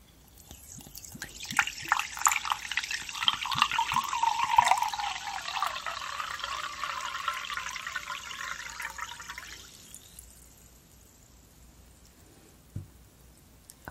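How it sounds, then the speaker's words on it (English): Perrier sparkling water poured from a bottle at a cozy inn check-in desk, a steady close pour running for about eight seconds before tapering off, with no talking. "A nice bottle of Perrier sparkling water."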